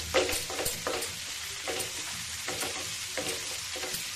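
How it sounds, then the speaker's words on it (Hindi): Onions frying in a pan for a cabbage sabji, a steady close sizzle broken by repeated stirring scrapes and clatters at a fairly even rhythm, with no talking. "प्याज को हमें गोल्डन होने तक भूनना है।"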